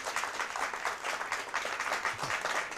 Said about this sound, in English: Round of applause for SDA Academy.